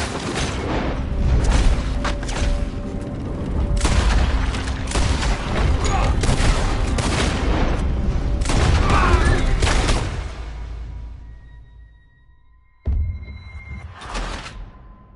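Gunfire in a Red Dead Redemption 2 shootout: dense, loud volleys of shots and booms over the first ten seconds, fading to a quiet lull, then a final brief burst near the end.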